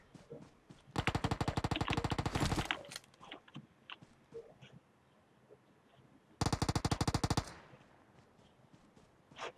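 Two long bursts of rapid automatic gunfire in the PUBG Mobile video game, loud and close, separated by a stretch of scattered softer shots and clicks.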